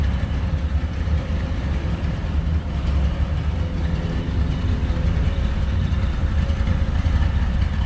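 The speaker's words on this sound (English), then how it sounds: "Gotta love the sound of a side pipe car." A 1969 Chevrolet Corvette convertible with side pipe exhaust idles close by, a steady, deep, even rumble that holds without change and with no talking.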